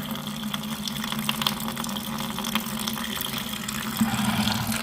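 Steady gush of water draining out of an abandoned 350 Chevy engine block, continuous and fairly loud, with a constant low hum underneath and a slight surge near the end.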